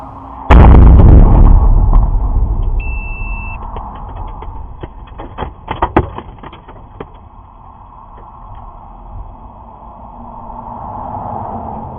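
A ballistic missile explosion in Israel: one loud, close boom that rumbles away, then scattered cracks and pops and a low, rolling background with no talking.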